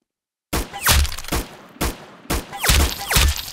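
Gunfire from the Roblox shooter game Arsenal, a rapid string of loud close shots in several bursts with brief gaps between, following a moment of silence at the start.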